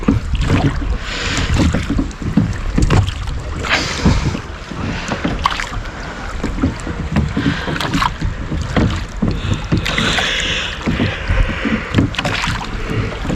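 Oars stroke through water as a small fishing boat is rowed at sea off Cornwall, with repeated close splashes and creaks over steady wind noise, continuous and fairly loud.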